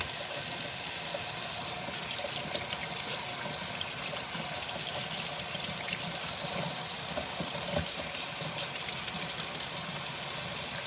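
Tap water runs steadily into a sink while a dirty doll head with corroded eyes is rinsed of soap, a continuous close gush with slight surges and no talking.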